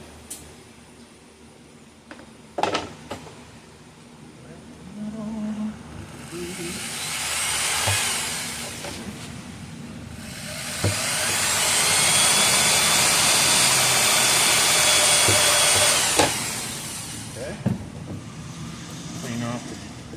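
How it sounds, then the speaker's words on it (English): A high whining drill runs in long bursts, rising to a steady loud grind as it bores through a plastic bucket, with brief clicks and pauses between runs. "So I'm gonna drill down until I get to"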